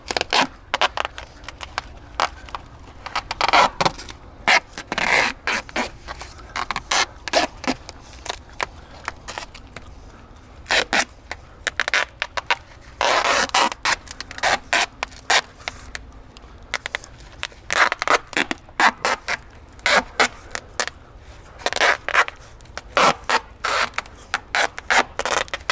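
Foam pipe insulation being cut at an angle for fitting curves, giving repeated short crunching, rubbing cuts in irregular bursts, close and fairly loud, with no talk.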